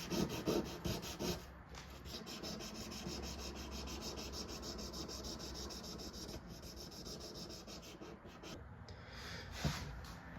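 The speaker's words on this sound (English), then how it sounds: "the lure is now done being sanded" A small golden trout crankbait fishing lure is hand-sanded with fine grit, a steady close rubbing rasp of quick repeated back-and-forth strokes that carries on without pause, with no talking.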